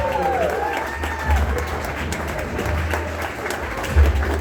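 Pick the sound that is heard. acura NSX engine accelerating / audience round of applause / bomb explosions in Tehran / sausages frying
audience round of applause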